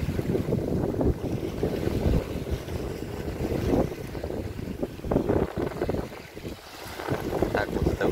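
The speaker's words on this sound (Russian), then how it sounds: "Здесь на побережье очень сильный ветер." Strong wind on a riverside shore near Laishevo, buffeting the microphone in loud, uneven gusts with a low rumble throughout, rising and easing over eight seconds; a voice is heard faintly beneath it.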